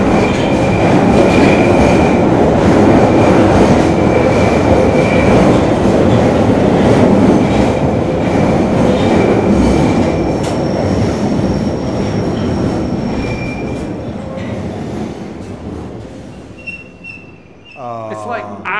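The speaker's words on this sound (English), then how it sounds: "I think we've got a train coming as well" London Underground train rumbling loudly through a tunnel at Waterloo station, a sustained roar with steady clatter and faint wheel squeal that slowly fades, followed by a brief rattling at the end.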